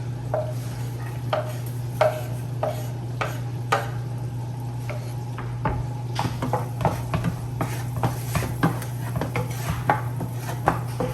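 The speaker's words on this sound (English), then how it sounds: "now I'm going to go ahead and add my garlic" Garlic sautéing in a pan for creamy Tuscan salmon, with a low sizzle under repeated sharp clinks and scrapes of a utensil stirring against the pan, irregular and close.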